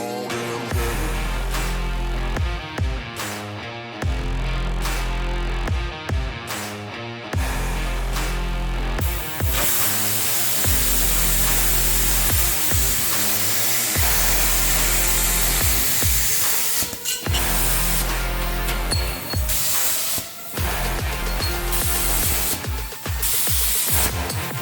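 Plasma cutter slicing a sheet steel carburetor base plate in a shop: a loud, steady hissing roar with a pulsing low hum, running in long passes broken by brief stops over about twenty-five seconds.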